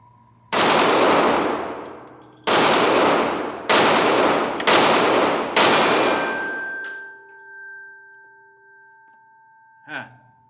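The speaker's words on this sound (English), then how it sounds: "Let me do some more shooting." Five loud, sharp Ruger 57 pistol shots fire at uneven intervals, each with a bright ringing decay, followed by a lingering metallic ring and a brief clink near the end.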